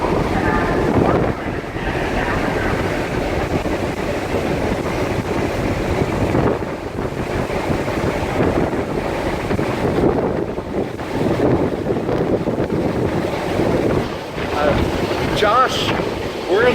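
Strong wind buffeting a microphone in a New York subway station area near 168th Street, a continuous loud rumbling roar with gusty surges throughout, with faint voices partly masked underneath.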